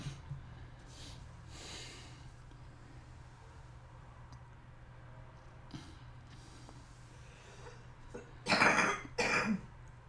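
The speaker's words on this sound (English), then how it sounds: "Cover cough." A person gives a few scattered faint coughs and throat-clears over a low steady hum, then two louder, sharper coughs close together near the end.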